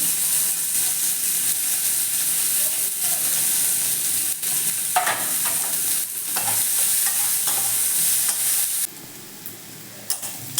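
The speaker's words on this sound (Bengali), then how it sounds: "পেঁয়াজগুলো আমি একটু ভেজে নেব" Onions frying in oil in a wok while being stirred, a steady sizzle broken by repeated scraping stir strokes, close and fairly loud, with no talk.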